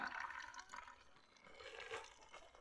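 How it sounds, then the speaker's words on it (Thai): Water poured in while making flour from cycad seeds, a continuous close splashing and trickling pour that rises and falls over a couple of seconds, alone with no talk. "เติมน้ำเนาะ ลงไปนะคะ"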